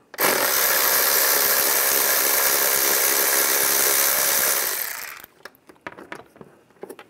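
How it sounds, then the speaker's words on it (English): A power tool with a T30 socket runs a screw out on a Cadillac SRX engine, one loud continuous whir for about five seconds that winds down, followed by small clinks and handling noises. "Take this screw out. I'm going to use a T30 socket."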